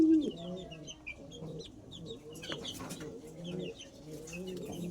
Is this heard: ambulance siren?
no